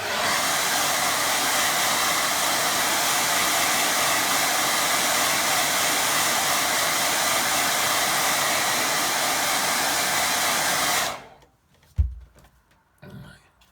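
A hair dryer runs steadily at close range for about eleven seconds, drying a watercolour painting of a fast-moving stream, then cuts off, leaving a few light knocks and handling sounds.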